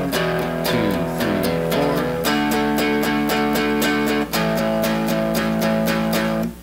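A beginner rock riff chugs along on guitar, rhythmic chords struck repeatedly in a steady groove with a brief gap midway, loud and continuous with no talking.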